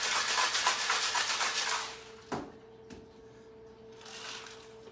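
A cocktail shaker holding a pineapple juice drink rattles in quick, rhythmic shakes up close for about two seconds, then a sharp clack and quieter handling follow.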